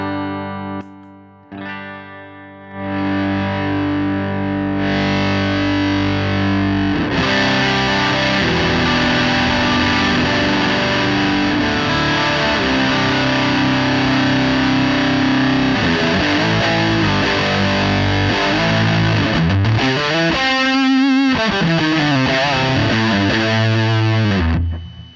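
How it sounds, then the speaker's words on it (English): Electric guitar through an Orange Terror Stamp amp with heavy, fuzzy amp-style distortion, playing sustained chords and notes with a thick, buzzing tone, loud and alone. "So it's got all the hairiness there of an amp distortion"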